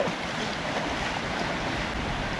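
A waterfall stream at Suan Pa waterfall in Khun Han, Sisaket, Thailand, makes a steady, dense rush of flowing water throughout, with no voices.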